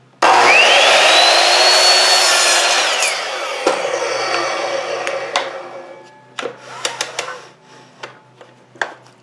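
A power saw spins up and cuts a 45-degree bevel through wood for a wine bottle bird feeder, a loud whining rip for a few seconds, then winds down, followed by scattered clicks and knocks of handling.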